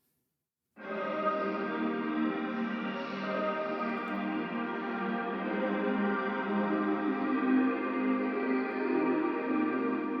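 A sustained, dense tone swells in after a moment of silence and holds steady, washed in heavy reverb and echo, with no speech.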